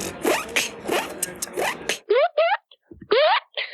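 A beatboxer mimics a clothing zipper with the mouth, producing a run of quick, rasping upward zips, first in a dense fast burst and then as separate crisp strokes with short gaps, close and loud.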